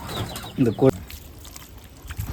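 Country chickens and roosters on a farm, with several roosters kept together, let out a couple of loud, close clucking calls before the yard falls to quieter background noise.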